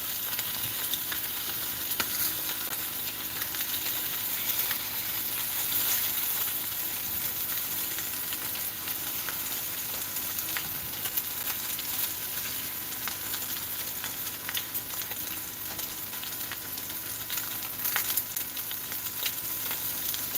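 Eggs sizzle steadily in a hot pan while being folded at breakfast, giving a continuous close crackling hiss with faint scraping and stirring touches throughout, and no talking.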